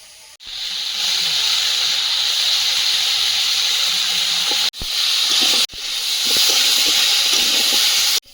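Mixed vegetables frying in a pan with cumin powder about to go in, a loud continuous hiss and sizzle interrupted by two brief breaks, with faint sounds of handling underneath.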